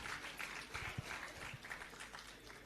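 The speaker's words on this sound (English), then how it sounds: "Let us once again give a huge round of applause to all our talented designers for their exceptional presentation." Applause from an audience at a graduation ceremony honouring design students, a dense, steady wash of clapping that runs for the whole stretch with no voices over it.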